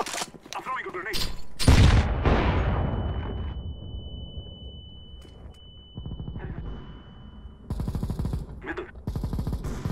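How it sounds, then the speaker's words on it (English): Grenade blast and gunfire in CS:GO, a loud explosion boom early on followed by a fading rumble, then rapid bursts of automatic gunfire, with a long steady tone in between. "I'm throwing a grenade."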